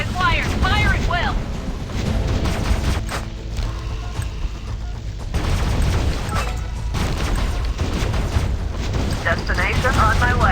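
Gunfire and explosions from the video game Last Z: Survival Shooter in a canyon battle roll on steadily as dense, booming combat noise, with a voice speaking over parts of it.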